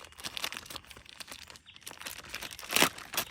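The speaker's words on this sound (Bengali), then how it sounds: "তো এটাকে আমি এখন আনপ্যাক করে নিচ্ছি।" A plastic packet holding a toy police SUV is unwrapped up close, giving quiet, irregular crinkles and rustles with one louder crackle near the end.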